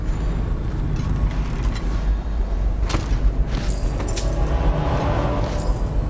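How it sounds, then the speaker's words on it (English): An explosive shot detonates in Dishonored with a sharp bang, then debris and clattering bits scatter over a low rumbling backdrop, fairly loud and close. "Explosive shot, nice."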